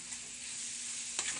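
Spaghetti squash stirred in a pan with garlic, butter and oil gives off a constant loud sizzle and hiss, with a brief scraping stir near the end and no talking.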